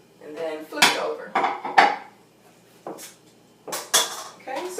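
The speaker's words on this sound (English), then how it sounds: "you put the other part on top and then flip it over" A cheesecake pan with a plate set on top is flipped over, giving several clattering metal-and-ceramic knocks and scrapes in short bursts, close and moderately loud.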